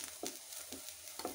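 Food fries in hot coconut oil in a home kitchen, a soft, quiet sizzle broken by a few short scraping stirs spaced across the moment.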